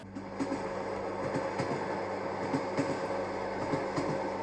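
A train rolls along steadily with a continuous rumble and faint rhythmic wheel clatter, a moderately loud, even passage with no voices.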